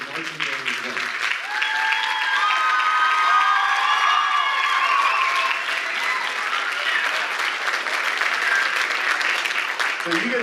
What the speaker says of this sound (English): So another round of applause to the junior high band.